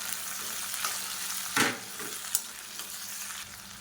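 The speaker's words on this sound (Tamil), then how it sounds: "மீடியம் சைஸாக ஒரு 2 தக்காளி சேர்த்துக்கலாம். சேர்த்துட்டு இதையும் நல்லா வதக்கிக்கலாம்." Tomatoes and onions sauté in a pan for a South Indian kulambu, giving a steady close frying hiss with stirring and one sharper clatter partway through. No one speaks.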